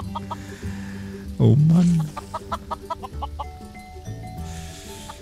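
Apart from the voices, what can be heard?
chickens clucking in the video game Minecraft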